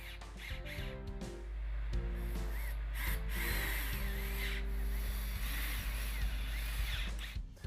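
Power drill driving pocket hole screws into a southern pine picnic table end assembly, with several short whirring bursts and a sustained run of drilling, close and fairly loud.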